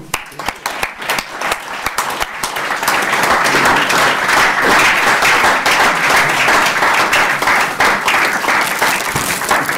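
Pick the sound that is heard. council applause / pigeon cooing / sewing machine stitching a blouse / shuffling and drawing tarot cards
council applause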